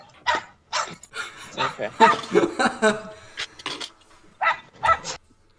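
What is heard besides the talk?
dog barking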